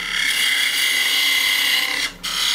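A heavy-duty parting tool cuts into wood on a lathe, giving a loud, steady, close whirring scrape that dips briefly near the end, with no talk.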